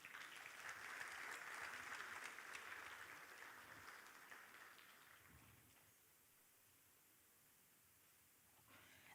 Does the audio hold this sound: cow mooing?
no